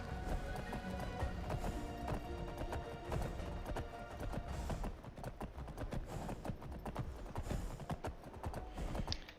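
Rapid hoofbeats of a horse in modded Skyrim clatter steadily throughout, a busy, continuous galloping rhythm at close range.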